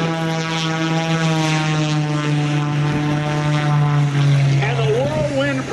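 A loud biplane's 400-horsepower Lycoming propeller engine drones steadily up close, its deep buzzing tone holding constant, then wavering slightly as the plane passes.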